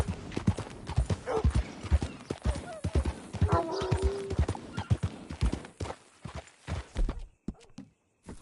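Horse hooves clip-clop steadily in Red Dead Redemption 2, close and clear, with a short whinny midway and voices talking over the hoofbeats.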